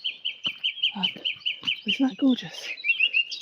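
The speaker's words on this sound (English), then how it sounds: "If anyone knows what these birds are, please do let me know." Birds singing in a forest at evening, bright repeated chirping phrases close by and continuous, with a person briefly speaking over the song.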